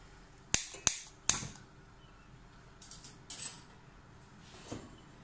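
A gas stove igniter clicks three times in quick succession, crisp and close in a quiet kitchen, followed by a few faint soft rustles.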